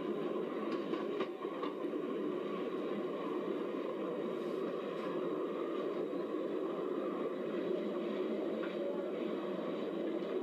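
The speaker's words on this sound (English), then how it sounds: "Here's the rest of our excursion train." An Ohio Central Railroad excursion train runs eastbound toward Newark, Ohio, with a steady, continuous rumble of wheels on track and faint rhythmic clicks, heard from on board at an even level throughout.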